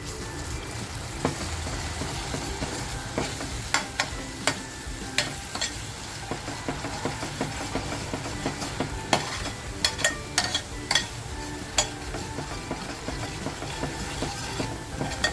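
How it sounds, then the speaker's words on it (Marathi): Ginger, garlic, coriander and chili paste fries in very hot oil, a soft crackling sizzle with repeated sharp stirring clinks and scrapes scattered throughout, no voices. "अगोदर मी अद्रक लसूण कोथिंबीर मिरचीची जी पेस्ट आहे ती तेलात टाकते"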